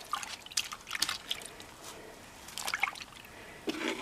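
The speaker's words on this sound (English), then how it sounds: "We're going to put it inside this. Everything's going to go in." Doll's clothes, including a little girl's coat, plunged into cold water to soak, giving a few light drips and small splashes at intervals amid quiet trickling, close by and soft.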